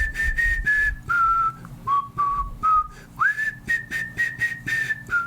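A person whistles a tune up close, in a melodic series of short, clear notes that step down and then rise again, with a faint low background hum.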